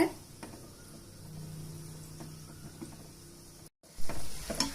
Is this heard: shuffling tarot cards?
no